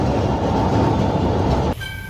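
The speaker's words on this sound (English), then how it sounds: "it will just go through the track very slowly" A Kolkata tram rolling slowly along its track, heard from a seat by an open window as a loud steady rumble of wheels on rail that drops away abruptly near the end.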